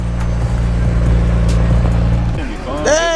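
Supercars, including a Lamborghini SVJ, roll in at a track day, their deep engine rumble loud and steady, then easing off as voices and whoops rise near the end.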